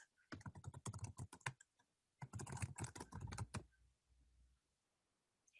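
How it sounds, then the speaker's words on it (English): Keys tapped on a computer keyboard while an email address is typed, two dense bursts of quick, close clicks separated by a brief pause, then a quiet tail. "you must come in and type the email address"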